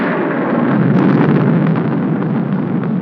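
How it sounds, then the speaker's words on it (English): Loud, deep thunder rolls on without a break, a dense rumbling roar with a brief sharper crack partway through. "I'm afraid of the thunder and lightning."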